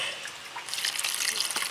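Water is poured into white Portland cement to make a whitewash paint for brick steps, a close, steady rushing trickle that swells midway and continues to the end.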